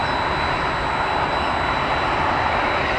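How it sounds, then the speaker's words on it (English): Airliner jet engines roar steadily and loudly at close range during takeoff from Tampa airport, a dense continuous rumble with a thin high whine on top. "1981 has been cleared for takeoff."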